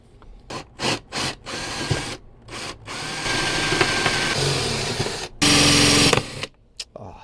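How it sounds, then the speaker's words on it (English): A power drill bores holes in a van for a Webasto heater, in short bursts and then longer sustained runs, close and loud with pauses between. "Let me drill the rest of these holes."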